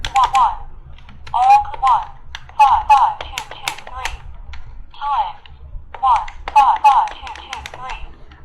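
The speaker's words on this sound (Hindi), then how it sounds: "अब हम कैलकुलेशन टाइप करते हैं" Button presses on a talking calculator as a calculation is keyed in, a run of light clicks each followed by a short synthetic voice calling out the key, with brief pauses between bursts.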